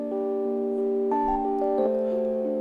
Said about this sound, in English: the music for the final stage of Risk of Rain 1 sounds like this.